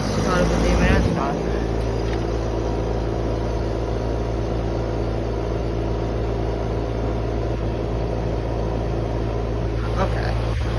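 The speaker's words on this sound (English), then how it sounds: "Let me try to get that fan motor again." The fan motor of a new 2023 2.5-ton Goodman GSZB4 heat pump runs with a steady, loud, low droning hum and a whooshing airflow. A brief bump of noise comes near the start.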